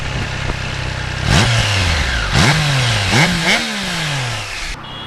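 Triumph Trident 660 motorcycle engine revving on a ride, loud and close, climbing through several rising pulls with gear changes between them and dropping off at the end.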